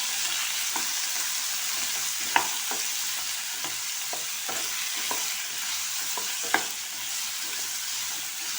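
A pumpkin pasta mixture stir-fries in a pan with a steady, close sizzle, broken every second or so by sharp spatula scrapes and knocks against the pan.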